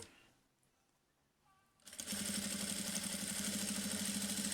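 A sewing machine backstitches across a fabric placemat: after a quiet start, the motor kicks in loud and close with a steady, rapid stitching whir that holds to the end.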